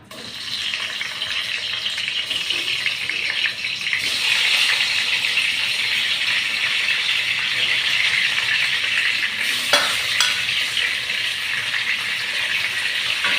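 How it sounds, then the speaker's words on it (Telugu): Sliced bitter gourd dropped into hot oil and deep frying: a loud, steady hissing sizzle that swells after a few seconds and continues unbroken, close up, with no talking. "నూనె వేడెక్కింది ఇప్పుడు నూనెలో వేద్దాం"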